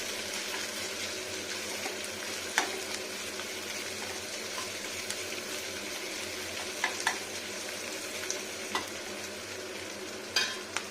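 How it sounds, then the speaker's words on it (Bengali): Crushed garlic sizzling in a pan for a country chicken curry with cauliflower and potato, a steady hissing fry with occasional sharp crackles and stirring clinks, close and moderately loud, no voices. "এখানে রসুনটা দিয়ে নিচ্ছি ভাজা ভাজা"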